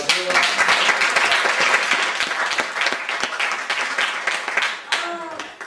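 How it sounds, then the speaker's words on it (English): A community poetry night crowd in Newark claps enthusiastically for a woman who works behind the scenes. The dense, close applause runs steadily, then tapers off as a voice returns near the end. "Let's clap up for Carissa, y'all."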